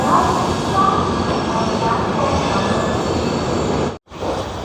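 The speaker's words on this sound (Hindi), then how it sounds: "अपनी ट्रेन बिल्कुल ऑन टाइम खुली है राजेंद्र नगर टर्मिनल से" The Sampoorna Kranti Express pulls out of Patna Rajendra Nagar Terminal, a loud, steady rolling rumble of railcars heard from on board, with a brief sharp dropout just before the end.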